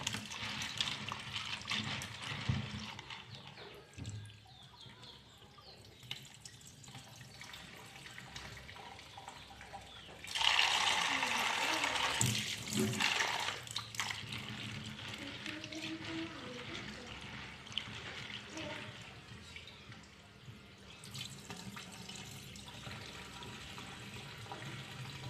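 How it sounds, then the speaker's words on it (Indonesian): Soybeans being washed in water: running, splashing water fills the scene throughout, with a louder, fuller surge partway through, close by and steady, with no voices. "Cuci bersih kacang kedelai."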